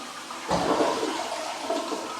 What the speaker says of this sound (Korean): 물도 변기물 한번 내려보시고